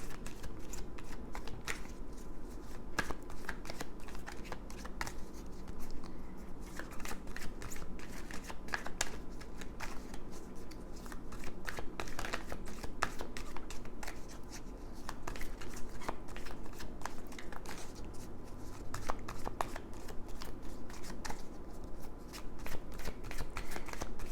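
Oracle cards are shuffled over and over, a close, continuous riffling and shuffling patter that runs on steadily without any speech.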